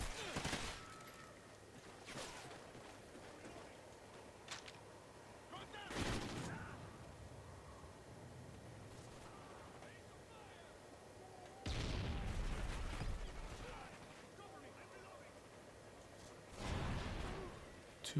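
Gunfire in the video game Call of Duty Ghosts comes in several loud bursts of rapid shots, separated by quieter stretches of game ambience.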